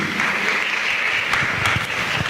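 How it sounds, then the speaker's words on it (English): Steady, dense audience applause fills a launch event in Trinidad and Tobago, loud and close, with a few sharper individual claps standing out and no talk over it. "A round of applause, please."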